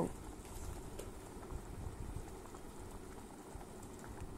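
Raw jackfruit simmering in a pot with turmeric and salt gives off a faint, continuous bubbling and gentle burbling, steady throughout with no other sounds on top.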